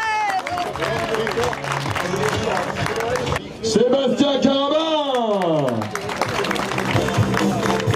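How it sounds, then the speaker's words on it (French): Applause from the crowd at the Roc d'Azur 2011 mountain bike podium, continuous clapping under an announcer's voice, with a sweeping tonal sound rising and falling midway. "On l'applaudit à nouveau très fort."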